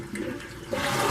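A toilet flushes as water is let out of the tank, a short, close rush of draining water with a swell near the end.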